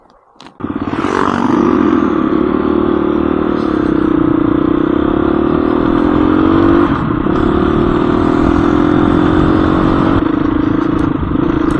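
Husky 350 motorcycle engine starts and holds a loud, continuous close-up drone, a steady rumbling idle with slight dips in pitch throughout.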